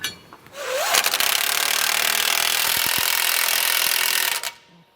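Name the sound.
tightening U-bolt nuts on a steering stabilizer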